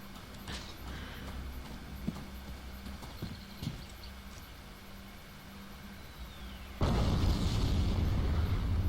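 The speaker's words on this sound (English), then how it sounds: "It's not finished yet, but this is a 120mm Russian mortar." A 120mm Russian mortar firing in Forgotten Hope 2 on a work-in-progress map: quiet ambience with faint knocks, then a single loud, deep blast near the end that rolls on as a heavy rumble.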